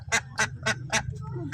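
Ducks in a village pen give four loud, evenly spaced honking quacks, then softer calls trail off over a low background hum.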